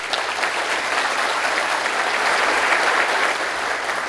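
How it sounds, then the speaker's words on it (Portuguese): Warm applause from a business conference audience in a large hall, a full, even rush of many hands clapping that holds steady for several seconds without talk. "Eu pedi uma salva de palmas calorosa"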